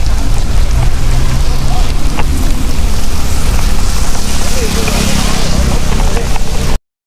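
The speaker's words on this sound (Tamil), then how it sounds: "மழை அதனால கொஞ்சம் பேஞ்சிட்ருக்கு" Rain pours steadily during a bicycle ride through Chennai streets, a dense hiss mixed with wind buffeting against the microphone, continuous and loud before cutting off abruptly.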